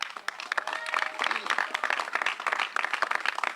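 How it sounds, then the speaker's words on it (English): An audience at a St. Pete event applauds Walmart with distinct, sharp claps from a modest crowd, uneven and close, with a few voices and cheers mixed in. "could we give a big round of applause for Walmart?"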